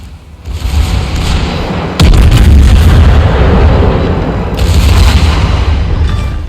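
Rear turrets of a Tier 9 German tech-tree battleship firing in World of Warships. A loud, deep boom breaks in suddenly over a constant rumble, and a rolling, heavy roar follows.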